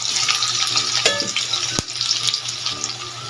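Tap water running steadily into a bowl at a kitchen sink during stir-fry cooking of pancit with tofu and egg, a continuous close hiss with sizzling from a pan beneath and a brief clatter midway.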